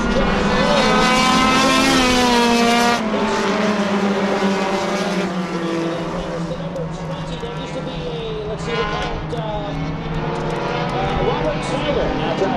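Race cars, including car number 69, roar past on a Maine motorsports track, their engines whining up and down in pitch as they pass, loud and continuous, while a commentator talks over them.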